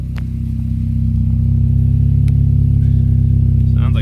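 A Honda H22A engine with an aftermarket exhaust idles steadily with a deep, even rumble up close, and a brief voice is heard near the end.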